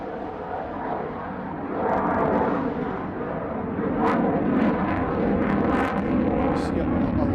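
A fighter jet rolling and pulling hard at the Farnborough International Airshow, a loud continuous roar that swells and surges over several seconds, heard from a distance across open air.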